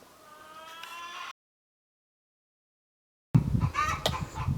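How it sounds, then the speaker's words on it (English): Chickens clucking and calling in the background, heard in two short bursts separated by a silent gap, with the second burst louder and busier. "I apologize if you hear chickens in the background"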